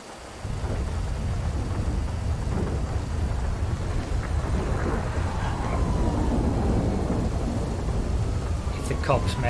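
Steady heavy rain pours throughout a Grand Theft Auto V thunderstorm, with deep rolling thunder rumbling underneath and a few sharp crackles near the end, loud and continuous without a break.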